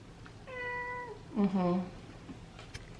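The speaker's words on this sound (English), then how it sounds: "These cats." Cats meowing indoors: one long drawn-out meow followed by a second, lower meow with a bending pitch, close and clear, then a brief faint sound before quiet.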